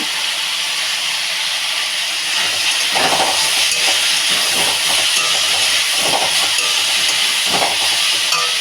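Chopped potato and pointed gourd fry in a pan with turmeric and salt, giving a loud, steady hiss and sizzle, with a few brief stirring clatters partway through and no talk.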